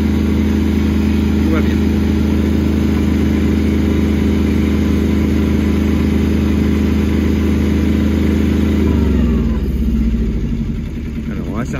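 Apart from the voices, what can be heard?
Kubota B1121 two-cylinder tractor engine accelerating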